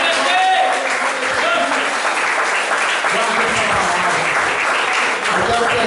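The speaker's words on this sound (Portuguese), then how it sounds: "Pode aplaudir a Deus." A church congregation applauding during an evening Pentecostal-style service, loud continuous clapping from a large crowd with some voices mixed in, sustained for the whole stretch.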